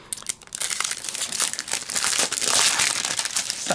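Plastic packaging around Diamond Press large sentiment dies crinkles and crackles continuously as it is pulled open close by, growing busier and louder toward the end.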